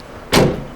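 The door of a 2021 Niesmann Bischoff Flair 920 EK motorhome opens with a single short, sharp thunk and a brief rattle.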